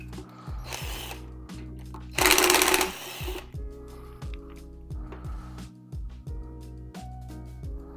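A screw is backed out during a teardown of an ExtremeBull Commander Mini, giving a close, repetitive ratcheting mechanical whir in short even cycles, with a brief louder burst of clatter partway through.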